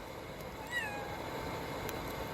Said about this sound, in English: My cat even has something to say about that.